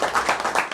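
A church congregation claps in a brief burst of several quick, close handclaps at moderate level.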